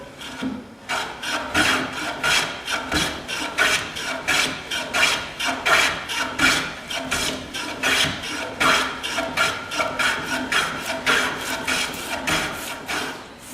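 A hand plane shaves a length of timber in steady, repeated rasping strokes. Each pass is a close, loud, even swish, and the strokes repeat rhythmically with no voices.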